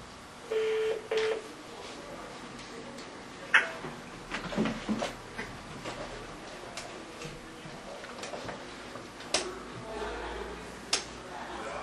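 Touch-tone telephone dialing in a county supervisors meeting room, a short pair of beeps at the start followed by scattered clicks, taps and handling noises, with faint talk in the background.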